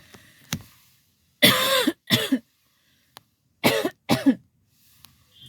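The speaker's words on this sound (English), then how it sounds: "I'm sorry about my coughing." A series of harsh coughs in separate bursts, a couple of short fits close together, loud and near with quiet gaps between.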